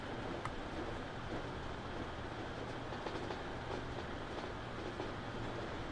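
A Class 156 Sprinter train runs in the Transport Fever game, a steady rolling rumble with faint rhythmic clicks, moderately quiet and continuous with no talking.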